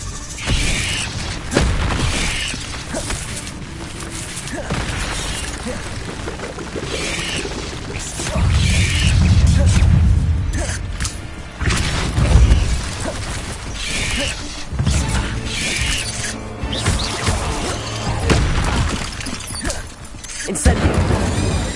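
Heavy spell blasts and crashing impacts from Depulso combat in Hogwarts Legacy on PS5, loud repeated booms and smashes layered over continuous game music and effects.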